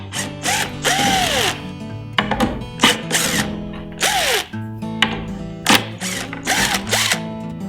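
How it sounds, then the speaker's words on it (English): A power drill fitted with a VIX bit bores hinge screw holes in a cabinet side in several short bursts, each whir rising and falling in pitch, with quiet thunks between them. "I'll hold the hinge in with 1 screw before I drill the other holes."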